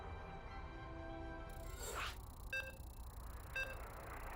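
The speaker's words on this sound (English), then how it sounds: "You can hear the beeps." Two short, bright electronic beeps about a second apart sound as a StarCraft II esports match loads into the final game of a series, following a soft whoosh over a steady low background hum.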